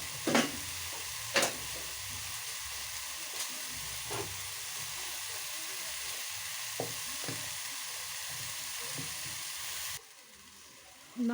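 Mushrooms frying in a pan, a continuous hissing sizzle with a few sharp pops and clicks from stirring, cutting off near the end.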